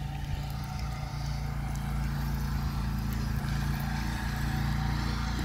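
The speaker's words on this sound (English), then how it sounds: "Dude's doing some serious mowing today." A lawn mower drones steadily somewhere nearby, a continuous low engine rumble holding at an even level throughout, with no talking.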